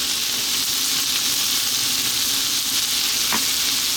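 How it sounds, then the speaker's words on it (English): Garlic, ginger and chili frying in a stir-fry pan with vegetable noodles nearby, giving a loud, steady, close sizzle with a constant hissing crackle and one faint clink of a utensil. "now I'm going to add in our garlic and ginger. And our chili."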